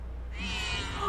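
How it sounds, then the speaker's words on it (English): A cat in the animated film Coraline lets out a single drawn-out, plaintive meow that rises in after a quiet start and holds to the end, close and clear with no talking over it. "Oh, the poor cat."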